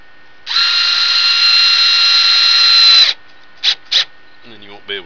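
A power drill drives 1 5/8 inch screws into a wooden Adirondack rocking chair: one loud, steady whine for about two and a half seconds, then two short trigger blips, followed by a brief voice.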